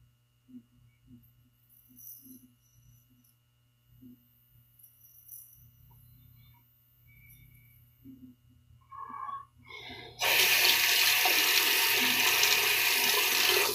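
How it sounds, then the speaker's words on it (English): Cold tap water runs loudly into a sink to rinse a razor blade after quiet clicks and handling sounds, steady gushing filling the last few seconds. "let's rinse off the blade a little bit with cold water"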